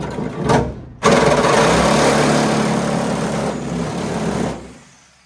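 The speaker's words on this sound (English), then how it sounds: "It appears that my Sawzall blade has seen better days." A Sawzall reciprocating saw with a worn blade cuts during work on a Firebird build, a loud steady buzzing rasp that starts after a short burst, runs for several seconds, then cuts off.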